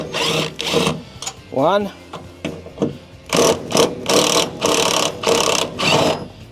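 A power driver with a T30 bit removes bolts on a Ford Maverick, whirring in repeated short bursts with one rising whine, close and loud, while a person speaks briefly.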